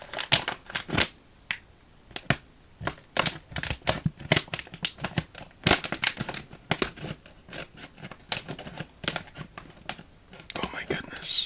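Small Leatherman mini scissors snip through Werther's Pumpkin Spice Chews candy packaging in a quick series of close, crisp cuts and rustles, with soft whispered speech throughout.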